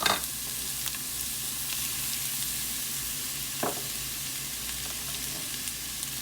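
Sliced onions fry in hot oil in a pan for a Kerala prawn roast, a soft continuous sizzle with a clatter near the start and one sharp scrape midway.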